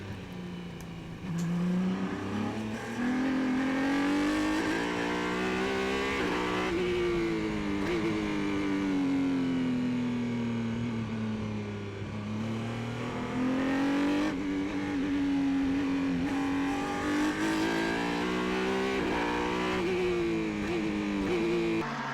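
Racing cars accelerating around Mondello Park in Ireland during a Formula BOSS championship round, a continuous loud engine drone rising and falling in pitch as cars power down the track and through corners.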